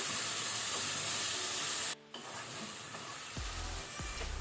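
Tomatoes fry in a pan at medium-high heat for a mutton masala, giving a steady close sizzle that briefly drops out, then returns with a couple of stirring knocks.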